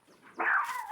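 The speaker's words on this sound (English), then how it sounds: "They know all these people and there's no reason for them to bark, but they just do it anyway." A dog gives a single short bark with a whimpering yip edge, close and fairly loud over a quiet background, with no talking.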